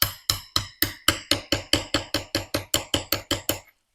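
A new rubber seal on a Classic Mini gearbox differential unit is tapped home with a socket and hammer: about fifteen sharp, evenly spaced metallic knocks, close and loud, with no talk.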